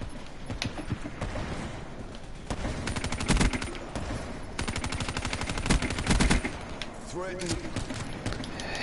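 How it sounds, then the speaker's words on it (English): Rapid bursts of machine gun fire in a video game, repeated volleys of dense clattering shots at moderate loudness, with a voice talking over parts of the clip. "Hate those machine guns, man."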